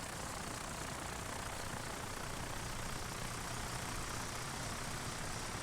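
Steady, low droning engine of a Wright Flyer in Microsoft Flight Simulator, a constant even hum at moderate level with no change in pitch or rhythm.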